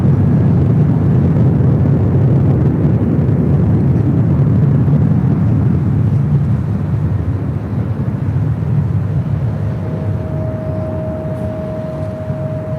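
A Singapore Airlines Boeing 777-300ER pushes back from its gate at LAX Terminal 3, heard as a loud, steady low engine and ground-equipment rumble that slowly fades, with a faint tone entering near the end.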